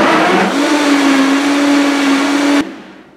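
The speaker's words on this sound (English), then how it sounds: "this Vitamix will blend up anything, which is incredible" A Vitamix blender blends a ginger green smoothie at high speed, a loud steady whirring motor with a constant hum that cuts off abruptly near the end and trails into quiet.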